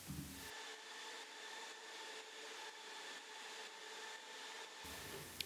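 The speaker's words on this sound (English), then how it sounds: "We've got a bit of white noise." A steady wash of hissing white noise holds evenly for several seconds, fairly quiet and constant, with low rumble only at the very start and end.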